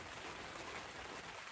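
Heavy rain pours steadily outside a hammock camp in the woods, a dense, even hiss of drops pattering on the tarp and ground, close and continuous with no talking.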